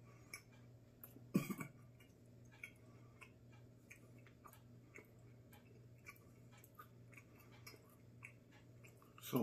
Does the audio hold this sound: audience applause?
no